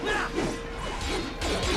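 Glass smashing in the Metal Gear Rising: Revengeance video game, a loud crashing burst with whooshing slashes and clattering debris, repeated impacts across the short moment with no talking.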